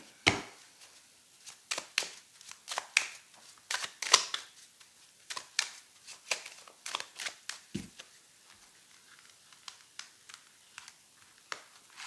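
Tarot cards are shuffled and laid down in a quiet room, giving a run of soft irregular flicks, slaps and riffles with short pauses between them.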